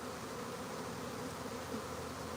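A honeybee swarm buzzes in a dense, continuous drone, soft and even, with no voices over it.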